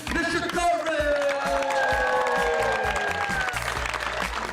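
An event crowd applauds and cheers for a tennis player, a sustained wash of clapping with whoops, set under loud music with strong bass hits and a sustained tone.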